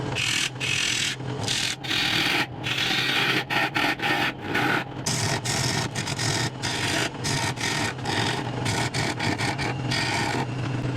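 A wood lathe turns a large salad bowl with a loud, continuous scraping and rasping of the tool against the spinning wood, full of rapid rough textures.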